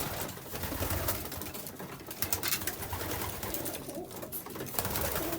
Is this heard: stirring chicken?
no